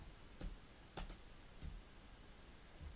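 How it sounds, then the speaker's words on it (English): A handful of quick keystrokes on a computer keyboard, spaced irregularly over a few seconds, faint and close against a quiet background. "if I was to type in something like"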